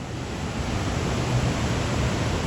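Massive roar of Iguaçu Falls, a broad steady rush of enormous volumes of falling water, loud and constant with no voices.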